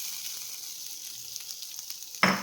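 Grated coconut frying in ghee in a pan, close and steady, a continuous bright sizzle with faint stirring scrapes, ending in a sudden louder clatter.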